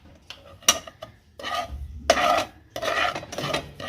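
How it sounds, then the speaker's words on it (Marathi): A spoon stirs and scrapes raw mango pickle masala around a pan in uneven bursts, with metallic clinks and gritty rubbing close by and short pauses between strokes. "केप्रचा कैरी लोणचा मसाला त्यात घालणार आहे आणि हे सर्व मिक्स करून घेणार आहे"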